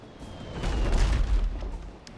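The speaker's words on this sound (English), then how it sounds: "We'll still fire our mortar." A ship's mortar fires in the sailing game Abandon Ship, a deep, rumbling boom that swells and rolls for a couple of seconds with noisy crackle on top, loud and close.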